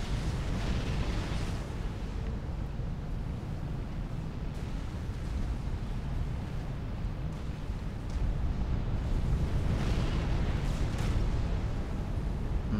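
Battleships bombarding targets in Supreme Commander: Forged Alliance, a sustained rumbling barrage of overlapping explosions and booms, fairly steady with a slight swell toward the end, no voices.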